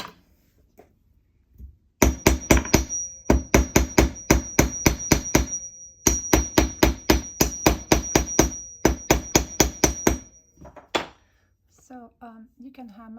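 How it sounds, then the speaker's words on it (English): A hammer strikes a wire-wrapped leaf pendant in two fast, even runs of sharp metallic taps, a short pause between them, close and loud, with brief talking at the end. "Then let me quickly hammer it."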